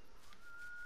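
A character whistles in The Last of Us video game, a short, thin, steady tone, brief and fairly quiet over a soft background hum.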